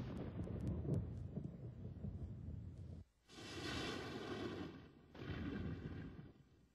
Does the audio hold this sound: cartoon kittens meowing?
no